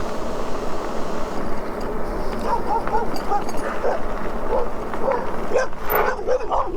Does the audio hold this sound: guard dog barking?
yes